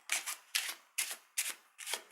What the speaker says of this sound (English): Keep continuing shuffling until you're about the last card